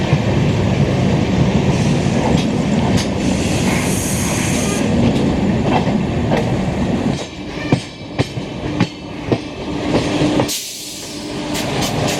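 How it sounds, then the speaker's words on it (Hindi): Pushpak Express, the Lucknow–Mumbai train, rolls into Jhansi station with a steady loud rumble and rail noise, then distinct clickety-clack wheel knocks over the joints as it slows. "लखनऊ से मुंबई के लिए जाने वाली पुष्पक एक्सप्रेस झांसी पे अराइवल लेते हुए"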